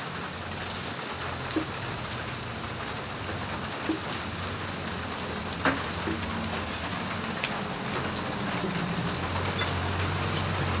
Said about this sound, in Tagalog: Kaso ganito, umuulan, lakas pa ng ulan.